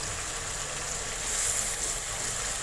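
Masala frying in a pan gives a steady, close sizzle with an even hiss throughout, swelling slightly in the middle, with no talk over it.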